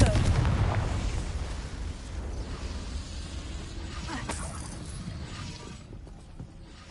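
A Confringo fire-blast spell detonates in a wizard video game, a loud booming burst at the start that rolls into a rumbling, crackling blast fading over several seconds.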